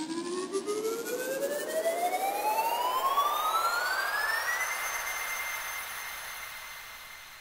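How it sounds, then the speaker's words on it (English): Synthesized granular riser built from a triangle wave and noise, with tune, grain number and length automated: a steady, fairly quiet sweep climbing in pitch for about five seconds, then holding level with a grainy hiss underneath. "we can automate the tune parameter along with the grain number and length to create a really unique sounding riser effect"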